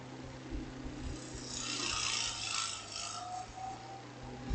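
Wood spinning on a lathe with a steady motor hum beneath a gouge shaping the piece, a continuous scraping rasp that swells and eases as the tool moves along the surface, close and alone.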